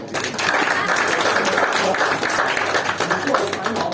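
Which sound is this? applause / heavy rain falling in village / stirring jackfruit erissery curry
applause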